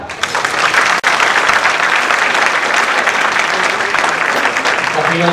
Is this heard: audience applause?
yes